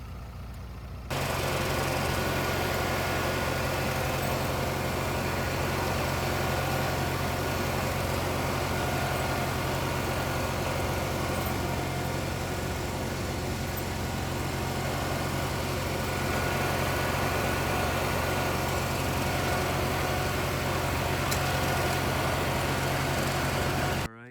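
An old tractor engine drones steadily at low speed, continuous and unbroken from start to finish, a heavy rumble with a faint knocking texture and no voices.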